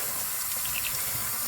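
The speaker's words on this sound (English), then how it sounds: "not hot water, just kind of cool to lukewarm water over the ham and just rubbing it down" Cool to lukewarm tap water runs steadily over a country ham in a sink, a constant close splashing hiss with no voices.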